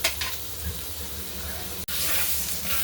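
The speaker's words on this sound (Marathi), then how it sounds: "इथे मी थोडंसं बटर घातलेलं आहे तव्यावर, त्याला छान मेल्ट करून घेऊ." Butter melting on a hot griddle (tawa) while pav is heated for pav bhaji, giving a steady close sizzle that breaks briefly and then returns louder.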